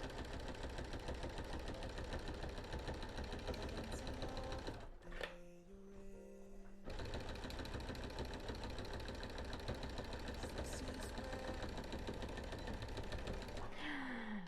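A sewing machine doing free motion quilting on a quilt chatters in a fast, steady stitching rhythm, stops briefly midway with a few faint mechanical tones, then resumes at full speed, close and loud.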